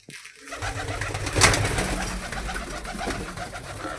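Pigeons of fancy breeds kept for sale coo softly and steadily close by, with a brief flutter or scuffle early on and no speech.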